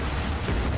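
A loud, dense explosion from the video game Incision, a rumbling blast with heavy low-end boom that fills the whole moment up close, with no talk over it.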